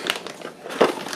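A large plastic bag from a home screening kit crinkles and rustles during unboxing, with a quick burst at the start and a louder crackling handful near the end, close and fairly quiet.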